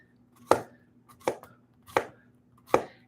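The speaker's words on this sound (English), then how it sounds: "you're just going to cut it into small circles." A knife slices a zucchini into small rounds on a cutting board, four crisp, evenly spaced chops with light knocks between them, close and clear with no talking.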